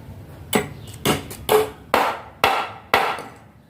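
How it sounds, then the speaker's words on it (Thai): A hammer drives a nail into a wooden door frame, six sharp, evenly spaced blows about half a second apart, close and loud with short ringing decays, during home construction work. "เดี๋ยวเราก็ตอกส่วนหัวนี้สักดอกนะ"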